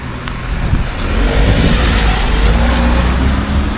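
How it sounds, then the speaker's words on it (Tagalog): Cars speed past in traffic, loud engine noise and tyre roar swelling as vehicles rush by close up, with a brief lull before the flow builds again; no one talks. "Ito mga kotse talaga, oh. Mga agresibo."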